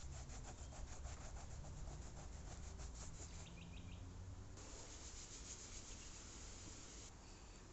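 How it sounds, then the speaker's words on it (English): Cloth rubbing over leather during mould cleaning, giving a steady, close rasping friction that runs continuously at an even level with no voices. "just rubbing it down with the same cloth that I used earlier"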